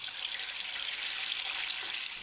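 Tap water runs steadily into a kitchen vessel while a 3% salt brine is mixed for soaking bass fillets, a constant close hissing rush with no break.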